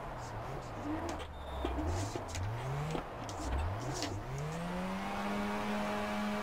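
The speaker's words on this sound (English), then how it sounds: "I like the blow-off valve." Car engine in the rFactor racing game during drifting, revving up and down in rising and falling sweeps with short chirps between, loud and continuous, with someone talking over it.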